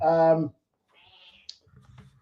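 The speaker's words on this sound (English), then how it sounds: "Oh, sorry about my cat." A pet cat gives a single loud, close meow at the start, followed by quieter faint rustling and clicking sounds.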